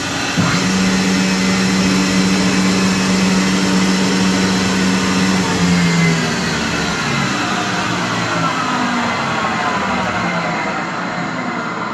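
A Weinig Profimat 22N molder planer runs with a loud, steady mechanical whine and hum, its pitch gliding slowly as the motors spin, continuous throughout.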